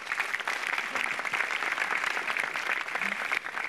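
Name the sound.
audience applause at stand-up comedy open mic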